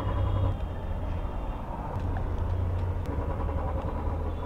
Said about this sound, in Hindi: जैसे हम बाइक स्टार्ट करते हैं